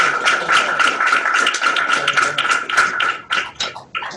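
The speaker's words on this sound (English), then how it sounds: "join me in giving a warm round of applause" Applause from students clapping over open microphones, a dense, steady patter of many hands, heavily compressed and thinning toward the end into a few scattered claps.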